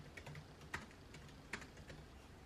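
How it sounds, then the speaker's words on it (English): Quiet keystrokes tap on a computer keyboard in an irregular typing rhythm, with a couple of slightly firmer presses standing out against soft background noise. "and I can start typing again"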